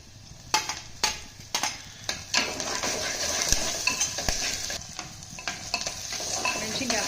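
Green chilies added to golden-brown fried onions and curry leaves sizzle steadily in a pan, with several sharp scraping and clanking stirs of a spoon against the metal punctuating the frying.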